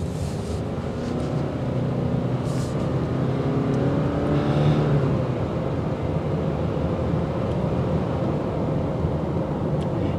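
A 2024 Subaru Crosstrek accelerates on the road, its engine droning steadily and climbing in pitch under constant tyre and wind noise heard from inside the cabin, with no talk.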